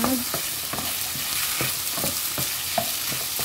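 Vegetables with plenty of onion cooking in a pan, a steady loud sizzle with repeated soft knocks and scrapes of stirring at a regular pace, no voices.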